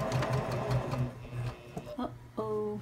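A sewing machine backstitches along a zipper pouch for sunglasses, giving a short run of quick rhythmic stitching bursts up close before it stops, followed by brief clicks and a faint tone.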